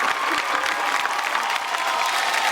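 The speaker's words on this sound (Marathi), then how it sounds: "या बात एकदा जोरदार टाळ्या झाल्या पाहिजे" A crowd claps loudly and continuously, dense, close applause filling the whole stretch, likely from a studio audience at a televised women's event show.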